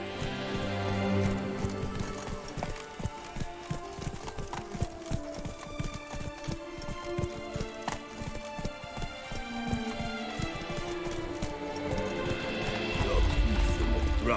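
A horse's hooves clip-clop at a brisk, irregular pace in The Witcher 3 game, mixed with neighs and background game sounds, rising louder toward the end.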